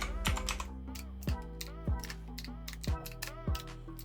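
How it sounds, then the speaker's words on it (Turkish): Keys clatter on a computer keyboard in crisp, close bursts of typing, punctuated by several heavier, evenly spaced keystrokes like Enter presses, with no voices. "Yine aynı yazıyı yazdım. Enter verdim."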